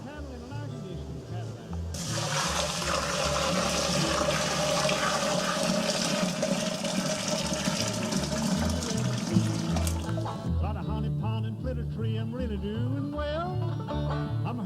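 Hot water gushes and pours steadily into a container for homemade root beer for several seconds, loud and close, then stops, leaving a quieter background.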